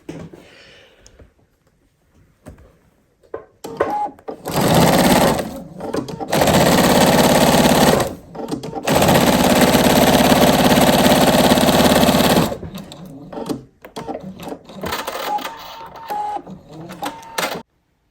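A sewing machine stitching fabric onto foundation paper for paper piecing runs in loud, close bursts of rapid mechanical whirring, several seconds each, split by short pauses and lighter clicks, with no talking.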